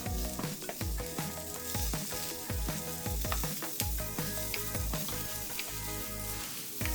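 Steady sizzling of zucchini slices frying in oil in a hot pan, a continuous crackle with occasional louder pops and scraping, no voices.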